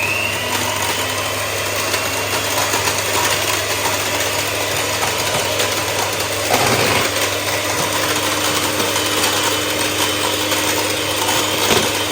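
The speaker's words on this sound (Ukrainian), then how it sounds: "І це все буду збивати міксером." An electric hand mixer whips a coconut dessert mixture with shredded coconut, giving a steady, loud mechanical whir with a continuous low hum and rattling texture throughout, with no talking.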